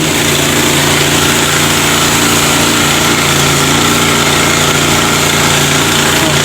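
A small generator engine drones loudly and steadily, close by, with a constant hum and rattle and no pauses throughout.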